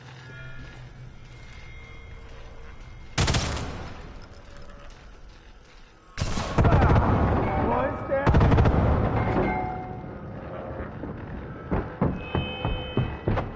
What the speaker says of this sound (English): Funny how they can eat an MG42 round.